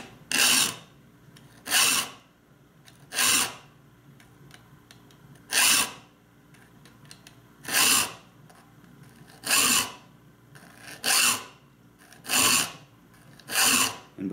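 A file rasps across the teeth of a dovetail saw being restored, in steady, evenly spaced strokes, about ten harsh scraping passes with brief pauses between, close and loud.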